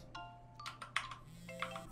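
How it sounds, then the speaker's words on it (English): A phone ringtone from the video game Crime Scene Clean Up Simulator plays as a short repeating electronic melody, clear and fairly quiet over a low steady hum. "My phone's ringing."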